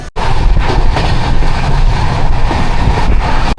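A moving passenger train travelling from Kharagpur toward Balasore gives a loud, steady rumble with rail noise throughout, briefly dropping out at the start and near the end.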